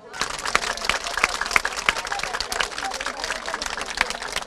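Applause from a television studio audience at a wedding-tradition show, dense steady clapping filling the whole stretch with crowd murmur mixed in.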